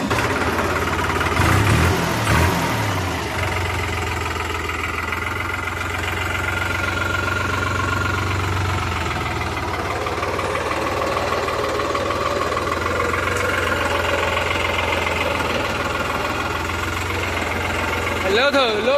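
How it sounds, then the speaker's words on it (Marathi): A tractor loaded with fodder stalks runs at a steady, low, knocking chug as it sets off. People talk over the continuous engine drone. "आपला ट्रॅक्टर लोड झाला, आपण निघालो आता."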